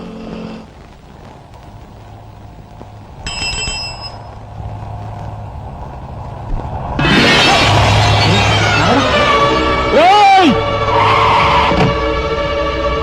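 A car skids in a Telugu comedy film scene: a sudden loud burst of engine and road noise, then a rising and falling tire squeal, and a sharp bell-like ring earlier, all over ambient background.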